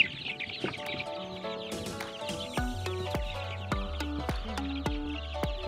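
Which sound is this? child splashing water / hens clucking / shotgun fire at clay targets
hens clucking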